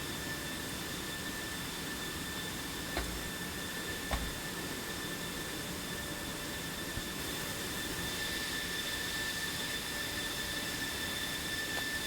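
A jet aircraft engine whines steadily in DCS as a pilot sits in the cockpit waiting, a constant hiss and tonal hum with a couple of faint clicks, no talk.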